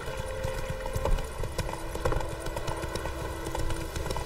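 Roach, a horse in The Witcher 3, clip-clops along at a steady walking rhythm, hoofbeats close and clear over a faint ambient background, with no talking.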